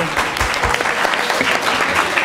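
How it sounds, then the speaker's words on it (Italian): Dense audience applause after a student monologue at a Holocaust Remembrance Day event, a steady, close wash of many hands clapping throughout the short stretch. "Complimenti davvero, ragazzi, un applauso a voi."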